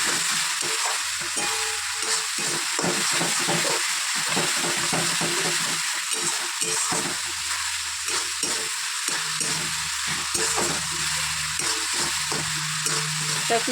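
Young jackfruit, parboiled, frying with a few prawns in a pan gives a steady, loud sizzle with frequent stirring and scraping throughout, and no voices.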